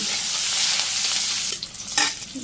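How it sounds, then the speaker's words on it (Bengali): Cumin and sliced onion fry in hot oil with a loud, steady sizzle up close, which breaks into softer crackles and a stirring scrape partway through, with no voices. "জিরে দিয়ে দিলাম পেঁয়াজ কেটে দিয়ে দিতেছি হালকা লাগি করে"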